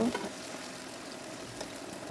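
Meat frying in a pan hisses and sizzles steadily, with soft stirring scrapes over the continuous crackle.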